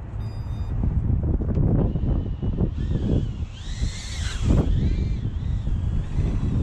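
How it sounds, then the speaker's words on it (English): Strong wind buffets the microphone in loud, continuous rumbling gusts, with a faint high electronic whine from a small FPV drone rising and falling over it. "It's really windy today"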